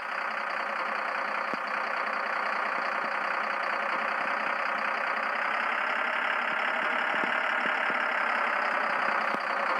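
Overloaded cargo truck engine climbing a hill in an Indian truck simulator game: a steady, dense, loud drone that holds evenly throughout with no breaks.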